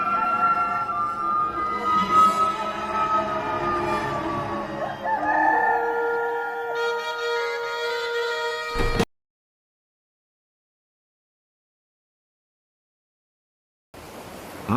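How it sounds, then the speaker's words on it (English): A rooster crows loudly and close by, a long drawn-out call with harmonic layers, then the sound cuts to silence before faint noise returns. "a rooster crowed."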